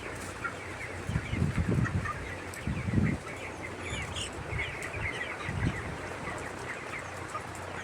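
Broiler chickens in a poultry farm under hot conditions, a dense flock clucking and murmuring continuously at close range, with louder bursts of clucks rising over the steady crowd noise and no talk.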